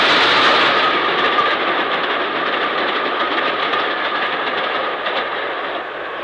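A steam locomotive hauls a boat train up Bincombe Bank near Upwey, a loud continuous roar of exhaust and rolling wheels that fades slightly toward the end.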